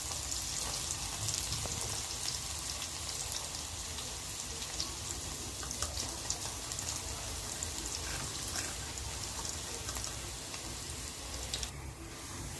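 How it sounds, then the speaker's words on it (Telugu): Crushed garlic frying in hot oil in a pan, a steady dense sizzle like light rain running evenly throughout with no pauses, close and moderately loud. "ఫ్రై అయినాయండి వెల్లుల్లిపాయలు"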